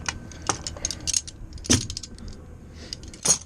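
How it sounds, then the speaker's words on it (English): Metal wrenches clink and jangle as they are gathered up and put away in a truck shop after wiring a Kenworth, a series of sharp close metallic rattles with brief pauses between them. "Take our wrenches back."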